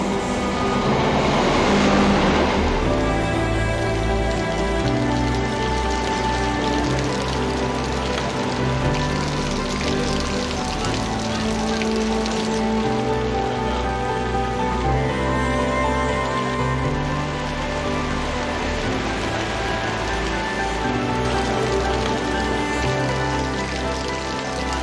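Steady rain falls beside railway tracks in Malang, Java, a dense, even hiss lasting throughout with faint tonal background sounds and no talking.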